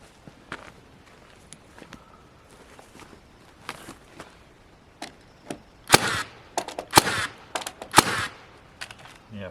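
A fastening gun drives fasteners through a sheet into an off-grid cabin being repaired after snow damage, firing a quick cluster of sharp, loud cracks near the end after quieter scattered taps and handling noises.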